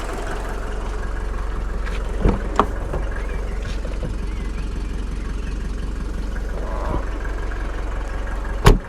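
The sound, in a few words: Mercedes W201 190D diesel engine idling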